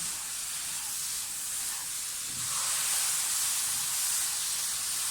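Milk is poured a little at a time into semolina and sugar roasting in a hot pan for suji halwa, raising a steady sizzling hiss that swells partway through and stays loud and close, with no talk.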